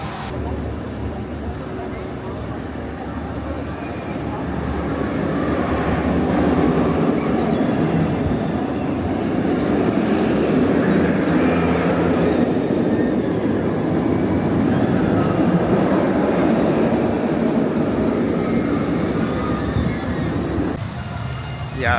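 A B&M inverted roller coaster, Great Bear at Hersheypark, runs with a sustained rushing, rumbling roar that builds and holds for about fifteen seconds, with voices mixed in.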